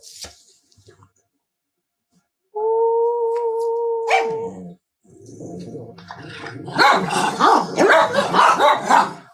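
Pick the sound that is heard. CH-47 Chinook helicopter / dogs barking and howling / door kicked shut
dogs barking and howling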